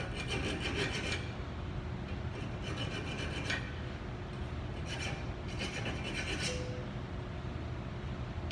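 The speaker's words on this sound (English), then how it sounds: "My left middle finger is over top of the file, so I keep pressure on the file there" A hand file rasps against the burr of a drilled hole in metal, giving bursts of rough scraping strokes in an uneven rhythm over a steady background hum, with no talking.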